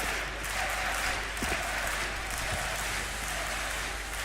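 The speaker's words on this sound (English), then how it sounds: "Yeah, the crowd's loving it." A large arena crowd at a CS:GO esports match at DreamHack Masters Malmö 2016 cheers and applauds in a dense, steady roar that fills the whole stretch without talk.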